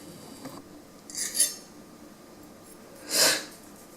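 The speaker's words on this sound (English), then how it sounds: "So what I'm going to do is slice up the tuna for me and Bae." A knife cuts through seared tuna on a board: two soft, brief slicing scrapes a couple of seconds apart, close and fairly quiet, with no talking.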